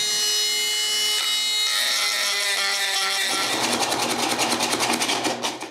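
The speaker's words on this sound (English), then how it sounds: "I get one of my carving burrs and finish the job with it." A rotary carving burr grinds into a wooden dog treat bowl, a steady high-pitched tool whine that gives way to a harsher, rhythmically pulsing grinding rasp as the cutter bites the wood, close and loud.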